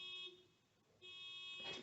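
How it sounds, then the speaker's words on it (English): A distant car alarm sounds faintly outside, a thin steady electronic tone that dips, then returns and swells near the end, with no talking over it. "Someone's car alarm's going off."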